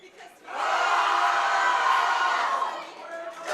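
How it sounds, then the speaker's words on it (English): A crowd roars and cheers at a high school powerlifting meet after a good lift. The sustained, loud cheering swells quickly and holds for about two seconds before easing off. "the crowd explodes"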